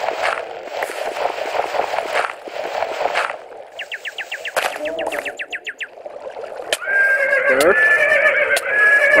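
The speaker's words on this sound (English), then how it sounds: "What is that awful horse?" A horse whinnies loudly in a video game, with repeated high neighing calls and clip-clop hoof sounds in a cave setting.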